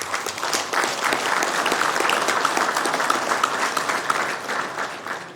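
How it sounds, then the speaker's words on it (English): Sustained applause fills a Sacramento city council meeting chamber, a dense steady patter of many hands clapping at even loudness throughout, with no voices standing out. "So big round of applause to them."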